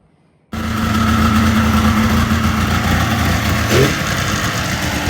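A Chevy Silverado 5.3 V8 fitted with a cold air intake idles steadily and close by, its deep engine drone and induction hum starting abruptly and holding level, with a brief swell near the end.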